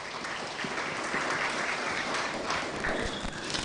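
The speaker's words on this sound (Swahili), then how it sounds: "Kindly give them a round of applause." A crowd gives a round of applause for a sponsor at a community awards event, many hands clapping in a steady dense patter throughout.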